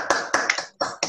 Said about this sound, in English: give a big round of applause for honoring Dr.